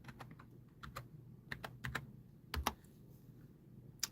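Fingers tap on a computer keyboard in quiet, irregular bursts of light clicks, with a few sharper keystrokes standing out against a faint background hum.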